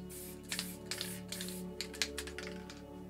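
A black can of A.K.A Colors Writer Series spray paint hissing and spitting in short irregular sputters, faint and close, with a low steady hum underneath.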